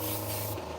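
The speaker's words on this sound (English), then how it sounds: "I'll take the bottle off and spray some water through" Airbrush spraying water through its nozzle with the paint bottle removed to flush it clean, a steady close hiss lasting under a second over a low hum.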